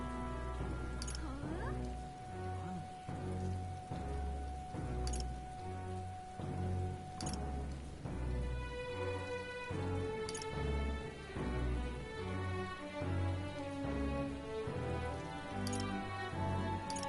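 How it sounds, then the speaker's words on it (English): Steady rain ambience from the video game Metaphor: ReFantazio, a soft continuous patter lying under melodic background music throughout. "Oh, I hate the rain."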